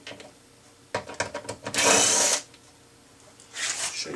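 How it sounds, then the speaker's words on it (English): A power drill backing Torx T20 screws out of an Audi Q5 front door panel, a few short clicks and scrapes, then a loud half-second whirring burst, with another short buzz near the end. "remove these two Torx T20s. I'm using a drill"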